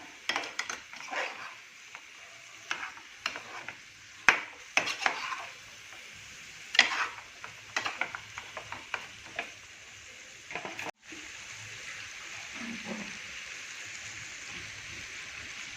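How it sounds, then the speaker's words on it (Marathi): Green beans and potatoes stir-fried in a pan for a Maharashtrian dry curry, with repeated scraping stirring strokes over a bright oil sizzle that carries on alone as a steady sizzle near the end. "ह्यात आपण आता आपले शेंगा आणि बटाट टाकून घेणार आहोत हे व्यवस्थित परतून घ्यायचं आहे आपल्याला"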